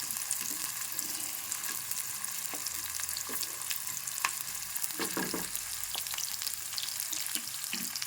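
Cut okra (bhindi) pieces fry in a pan with a steady, moderately loud sizzle and scattered scraping stirs.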